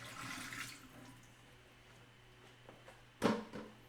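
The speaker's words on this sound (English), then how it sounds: "I'm rinsing this bucket out." Water sloshes and splashes while a bucket is rinsed out, a soft pour at the start, a quiet stretch, then a sharper splash near the end, all faint and distant with no talk.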